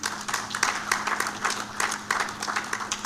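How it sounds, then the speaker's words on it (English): An audience at the Youth in Energy Conference 2024 applauds Total Energies EP Uganda, giving a fairly faint, steady patter of many hands clapping at a distance, with no voices over it. "I believe Total deserves a hand of clap."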